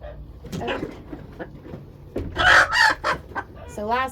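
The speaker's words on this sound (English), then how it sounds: "The rooster doesn't like that sound of me messing with his hens." A rooster crows loudly and close by on a homestead, its drawn-out call rising over scattered clucking from nearby hens, with a short harmonic squawk near the end.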